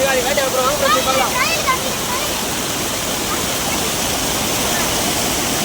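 Heavy rain pours down during a cyclone, a loud, steady broadband rush like falling water throughout, with voices talking briefly over it at the start.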